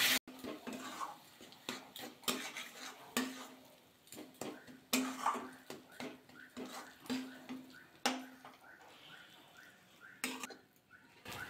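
A spoon scraping and tapping in a pan while cabbage and grated potato are stirred together, giving quiet, irregular clinks and scrapes through a close, soft background.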